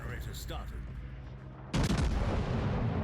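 Naval guns firing armor-piercing shells in World of Warships Legends, a sudden heavy booming salvo that erupts midway and rolls on loudly, following a quieter stretch of game ambience with a brief whine.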